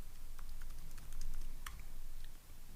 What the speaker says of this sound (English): Let's type that out correctly